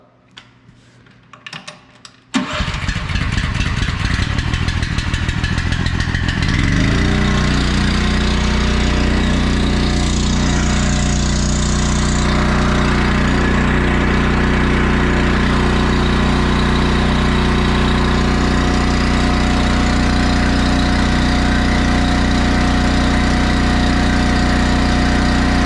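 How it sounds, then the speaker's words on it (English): A Honda small engine starts after a few quiet seconds of rattling, then settles into a loud, steady, rapidly pulsing idle that runs unbroken to the end, close up. "So we'll fire this Honda up and we'll see where we're at."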